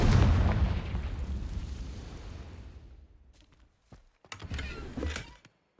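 A Confringo fire spell going off in the Hogwarts Legacy game, a loud booming blast that rumbles and fades over a few seconds, followed by a few short, sharp sound effects.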